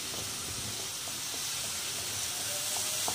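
Coriander, cumin and garam masala fry together in a pan, giving a soft, even hiss of sizzling spices that holds steady at low volume with a few faint stirring clicks.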